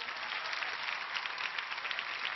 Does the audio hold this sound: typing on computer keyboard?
no